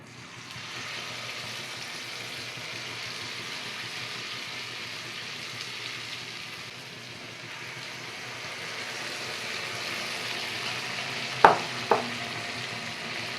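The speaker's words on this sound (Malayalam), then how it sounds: "എണ്ണ ചെറിയതായിട്ട് തിളച്ചുകൊണ്ടേ ഇരിക്കുന്നു" Banana fritters sizzle steadily in hot bubbling oil, a continuous close hiss lasting throughout, with two sharp clicks of a utensil near the end.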